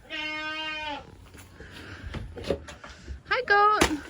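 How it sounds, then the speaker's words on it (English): A goat on a farm bleats loudly at close range on a cold winter day, one long wavering call followed by shorter bleats later, with a person speaking briefly between them. "Hi, goat."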